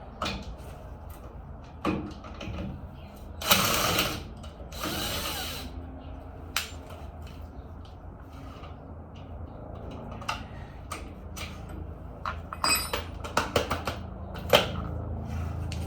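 A 14 mm ratchet wrench loosens the nut on a Repu front spring, producing bursts of rapid ratcheting clicks with sharp metallic knocks and clanks between them, close and fairly loud, with brief talking.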